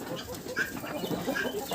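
Backyard roosters and hens clucking at a village farmyard, several soft, scattered clucks and short calls at moderate distance over a constant outdoor background hum.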